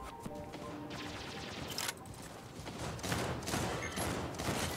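Dense, continuous gunfire from mechs in Mech Arena, with rapid overlapping bursts and crashes, loud and unbroken throughout.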